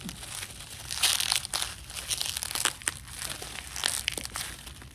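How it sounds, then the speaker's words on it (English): Packing tape peeling off the back of a plastic AliExpress mailer, with close crinkling and crackling bursts of plastic and tape in an irregular rhythm, no talking. "Can I just pull out the backside of the tape?"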